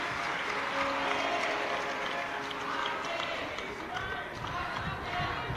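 A crowd at a Shiv Mahapuran katha gathering claps loudly for the host family, a continuous roar of applause under a reverberant hall sound.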